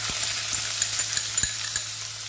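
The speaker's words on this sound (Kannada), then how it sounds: "ಜೀರಿಗೆ ಸ್ವಲ್ಪ ಫ್ರೈ ಆದಮೇಲೆ 2 ಈರುಳ್ಳಿ ಮತ್ತು 2 ಒಣಮೆಣಸು ಹಾಕ್ಕೊಳ್ತಾ ಇದ್ದೀನಿ" Sliced onions and two dried red chilies hit hot oil with cumin seeds, a loud continuous sizzle with light crackles and occasional sharp spatters, close and steady with no voices.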